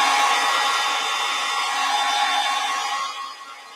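A hair dryer blows steadily over wet watercolor paint on a painting of snowdrop flowers, a close, even whooshing hum that fades down in the final moment; no one speaks.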